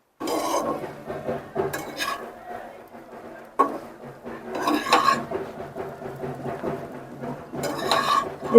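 Bread pieces fried in ghee over a low flame are stirred and turned in a pan, producing repeated scraping and clinking of a spatula against metal with soft sizzling between strokes, close and moderately loud.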